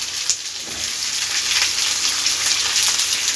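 Onion and capsicum frying in a hot pan with green chillies for a jackfruit Manchurian, giving a steady, close, crackling hiss throughout with no talking.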